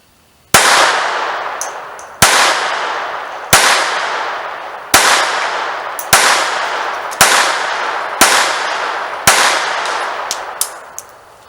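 Eight sharp .25 ACP pistol shots from a Beretta 950 Jetfire fired at a range target, spaced roughly a second apart, each crack loud and close with a short decaying ring.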